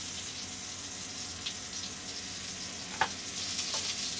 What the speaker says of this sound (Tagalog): enoki mushrooms sauteed in beef chips